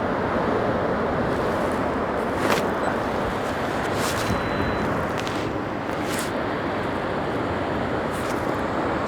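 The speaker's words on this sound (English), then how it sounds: "there's a wave coming in." Ocean surf rushing continuously with a wave breaking, heavy and close, mixed with wind buffeting the microphone, on a sea cliff on the Isle of Lewis.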